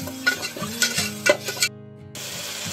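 Masala paste frying in oil while a mushroom pulao is cooked, with crackling sizzle and a few scraping stirs in the pan, broken by a brief silence before the sizzling returns.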